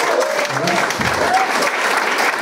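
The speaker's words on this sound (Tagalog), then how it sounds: "Pumapalakpak." Audience clapping at a live talk, a dense, continuous burst of applause from a crowd filling the whole moment.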